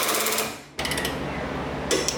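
A power tool tightens a fastener on a car's BC coilover, giving a short buzzing whir that stops, then resumes as a steady mechanical drone with a brief higher burst at the end, close and fairly loud.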